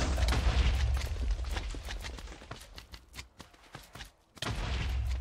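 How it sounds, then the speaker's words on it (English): Withers in the Minecraft video game explode several times in quick succession, a run of sharp booming blasts with rumbling bursts and cracks, then a heavy sustained rumble near the end. "Why were there multiple explosions there?"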